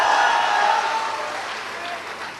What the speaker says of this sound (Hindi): पीछे से ताली बजा रहल बा